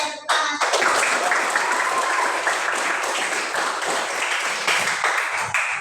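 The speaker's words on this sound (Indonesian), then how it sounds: "Oke, tepuk tangan." A classroom of students clapping their hands together, a loud dense burst of applause starting abruptly after a brief pause and holding steady for several seconds, close and full.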